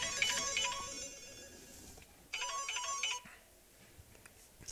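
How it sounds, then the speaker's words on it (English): A phone ringtone goes off during a BCAPL pool state championship final, playing two bright melodic bursts separated by a short pause against a quiet room. "My phone goes off at the most inconvenient times sometimes."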